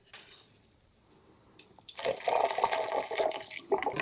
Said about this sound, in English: I'm just going to be pouring a little bit at a time on each cylinder.